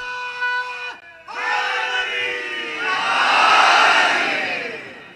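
A crowd at a Muharram majlis gathering roars a religious slogan in unison in response to a single voice, a loud swelling shout that builds to a peak and slowly fades, preceded by a short drawn-out call.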